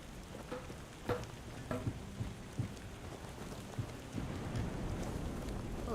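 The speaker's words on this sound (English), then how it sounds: "Let's step out of the rain though." Steady rain falls in the fantasy video game Tainted Grail: The Fall of Avalon, a soft, dense patter with a few faint low thumps and no voices.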